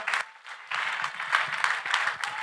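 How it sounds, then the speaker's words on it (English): A church congregation claps in a burst of applause, dense irregular clapping that drops briefly then swells back louder and sustained throughout. "can you make the clapping louder?"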